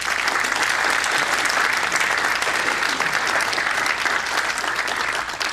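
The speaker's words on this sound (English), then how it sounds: "If we could give her a round of applause." An audience applauds steadily for a band's lieutenant, a full, even roar of many hands clapping at close range that holds without a break throughout.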